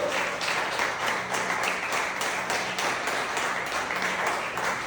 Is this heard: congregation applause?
yes